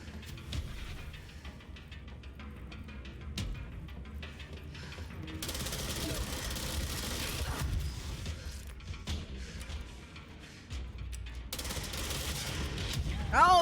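Spin, a rapid-fire weapon in the video game Control, unleashes dense bursts of gunfire with mechanical whirring, loud and sustained in two long stretches over game ambience and rumbling impacts.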